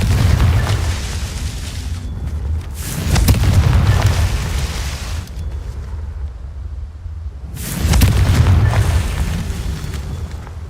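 Confringo spell blasts in the Hogwarts Legacy video game: deep booming explosions in three heavy bursts, each swelling then decaying into a low rumble, loud and close with no talk.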